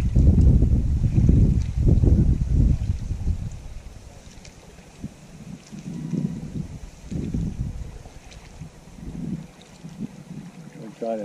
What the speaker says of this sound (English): The wind's starting to pick up, guys.